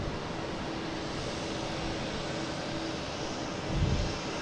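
A JetBlue airliner arriving at Boston Logan Airport, its engines a distant, even broadband rumble with a faint steady whine, swelling slightly near the end as it draws closer.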